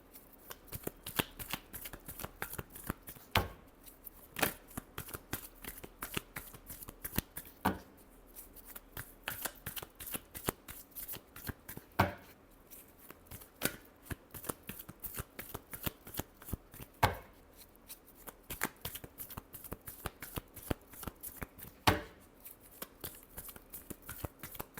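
Tarot cards are shuffled over and over by hand, giving a long run of crisp riffling bursts and slaps with short pauses between them, close and quiet, with no talk.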